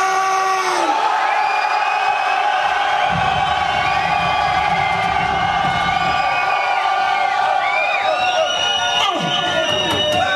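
Crowd at a clash event shouting and cheering loudly, whoops and bellowing voices rising together in a sustained roar with a few prominent individual shouts.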